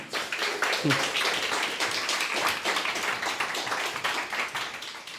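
A live audience at a business talk claps in a warm, steady round of applause, with a voice speaking briefly over it.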